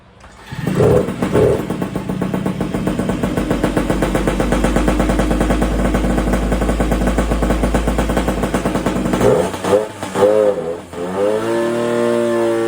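A Derbi 50cc piston-port two-stroke motorcycle fitted with a Metra kit, not run since last year and a little smoky, starts and idles in a loud, rapid, buzzing drone. It revs near the end and then settles back, close by.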